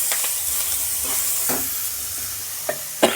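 Green chili and garlic paste masala fries in a pan with a little water, a steady loud sizzle and hiss broken by a few stirring scrapes, with no voices.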